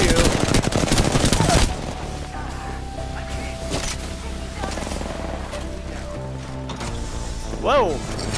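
Gunfire in the shooter game Apex Legends crackles in a dense burst at the start, then gives way to scattered shots and mechanical clicks under steady game noise, with a brief rising whoosh near the end.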